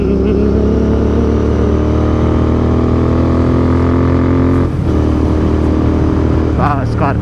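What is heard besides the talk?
Continental GT 650 motorcycle accelerating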